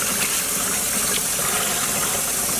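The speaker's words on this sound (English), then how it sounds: "this way I will actually be able to squeeze out a lot of the water in between each rinse" Running tap water streams steadily and loudly while dyed sock yarn is rinsed beneath it, a continuous broadband rush with no pauses.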